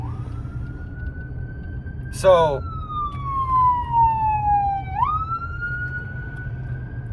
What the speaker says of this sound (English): There's an ambulance coming up,